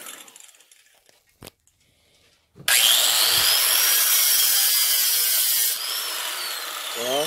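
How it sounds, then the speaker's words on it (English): A cutoff grinder starts after a few quiet taps and knocks, then runs loud and steady with a bright, high-pitched cutting whine that eases slightly in its last seconds. "It's a cutoff grinder."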